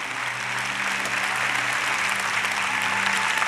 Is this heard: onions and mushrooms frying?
no